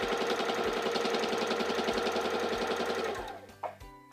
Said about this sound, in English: you want to just press down on your foot control to start sewing